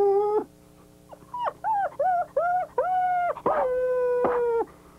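A dog howls in a run of about six drawn-out, wavering, tonal howls with short breaks between them, loud and close with no talking.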